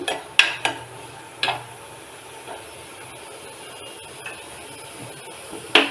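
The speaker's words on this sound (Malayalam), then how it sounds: "തക്കാളിയും കൂടി വഴറ്റുക കുറച്ചുകൂടി കൂടി വഴറ്റിയതിന് ശേഷം" Tomatoes being sautéed in a pan for kovakka mezhukkuvaratti, an ivy gourd stir-fry, with a soft steady hiss broken by a few sharp scraping stirs near the start and end.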